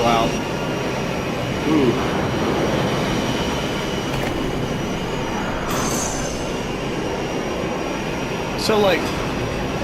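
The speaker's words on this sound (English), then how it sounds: "The really loud airship." A loud airship engine roars continuously in Final Fantasy XII, a dense broadband rumble with occasional whooshes, while a person briefly talks over it.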